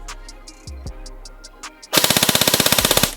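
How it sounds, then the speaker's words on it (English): An ICS Lightway Dagger airsoft gun fires a rapid full-auto burst of about sixteen even, loud shots, preceded by a few lighter clicks and handling noises. "Let's go full auto."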